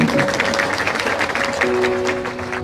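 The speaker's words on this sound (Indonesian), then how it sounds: "Tepuk tangan untuk Rocky." An audience at an intellectual talk applauds for a speaker, a steady, dense wash of clapping throughout, fairly loud and close.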